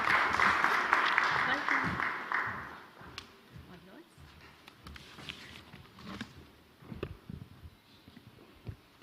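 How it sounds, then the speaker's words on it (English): Brief audience applause at a live conference as a speaker joins the stage, loud at first then fading after a couple of seconds into scattered claps, footsteps and thuds, with voices speaking over the tail. "A round of applause as he joins us."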